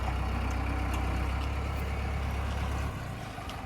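A tractor engine idles close by with a steady, low, chugging rumble that holds evenly and then drops slightly in level near the end.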